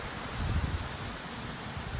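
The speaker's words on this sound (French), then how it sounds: "le vent maintenant est ouest-sud-ouest, et puis ça souffle à 70 km/h" A strong west-southwest wind gusting near 70 km/h makes a steady broadband roar with low rumbling buffets on the microphone, and no voices are heard.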